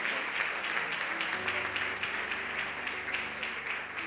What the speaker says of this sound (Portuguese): Vai aplaudindo a Jesus aí, a Jesus,